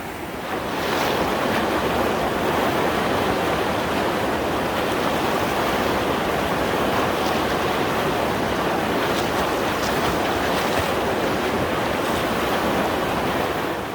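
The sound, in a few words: river water flowing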